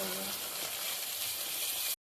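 Steady, loud sizzling of catla fish frying in hot oil, continuous throughout before cutting off abruptly.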